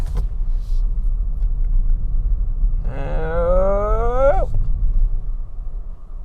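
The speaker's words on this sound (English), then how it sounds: "I'm going to do a U-turn just here." A Kia Ceed car making a tight U-turn, its engine a steady low rumble throughout with a brief rising mechanical whine or tyre squeal partway through, fairly close.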